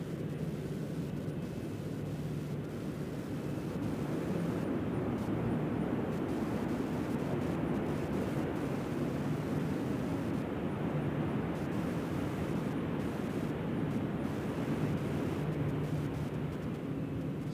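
A jet airliner landing at Nashville International Airport, heard as a steady, broad roar of engine and rushing air that holds loud and even, without a break, for the whole stretch.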